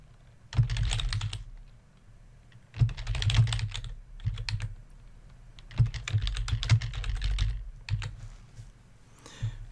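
Fingers type on a computer keyboard in quick bursts of soft key clicks, four clusters separated by short pauses, close and fairly quiet with no talking.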